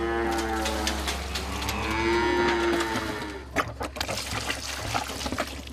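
Dairy cows on a farm moo in long, low, drawn-out calls, close and fairly loud, followed by scattered knocks and shuffling noises around the barn; no one speaks.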